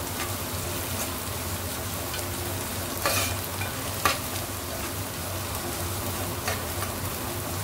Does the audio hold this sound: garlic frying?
yes